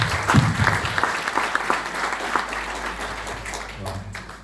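Audience at a project launch meeting breaks into a round of applause, a steady wash of many hands clapping that tapers slightly toward the end.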